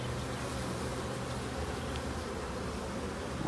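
Honeybees drone in a dense, continuous buzz close around a hive while two colonies are being merged, with no voices over the hum.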